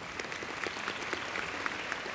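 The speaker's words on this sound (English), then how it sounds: "Let's have a round of applause for your big talk." An audience applauds in a steady, moderately quiet patter of many hands clapping at once, holding an even level throughout without cheers or voices.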